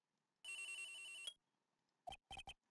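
A telephone rings in the Phoenix Wright video game, first as one long loud continuous electronic ring, then after a short gap as three short bursts, with no voices.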